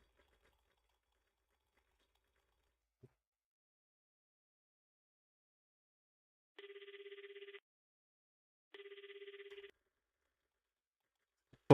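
An electronic telephone rings in an RPG Maker video game: two even, buzzy ring bursts about a second long with a short pause between them, otherwise near silence.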